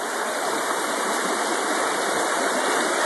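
Water swirling and rushing steadily in a gold pan during panning at a claim, a constant loud wash of water with no breaks and no talk.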